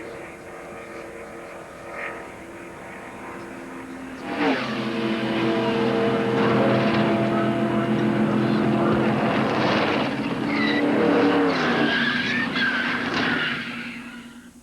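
Race cars in a crash at Talladega Superspeedway during a 1995 ARCA series race: engine roar swells sharply, stays loud and droning for several seconds, then recedes, with voices present.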